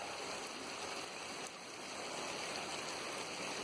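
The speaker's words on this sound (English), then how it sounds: "We have running water in our front yard. It's going down the hill." Floodwater after Hurricane Lane runs across a driveway and down a hillside yard, a steady, even rushing wash that holds without a break, fairly quiet.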